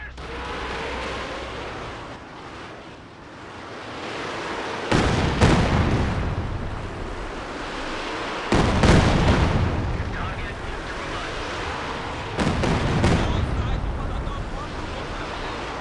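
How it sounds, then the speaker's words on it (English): Artillery barrage in the Company of Heroes 2 Eastern Front war game: three heavy booming blasts land a few seconds apart over a constant loud rumble of battle noise, with talk mixed in. "Firing barrage."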